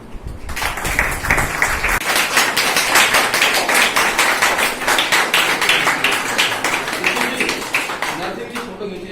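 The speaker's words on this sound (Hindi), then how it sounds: "ताली मत बंद करिए आप लोग।" Audience clapping at a leader meeting in Gorakhpur, a steady dense patter of many hands sustained for the full stretch, fairly loud and close.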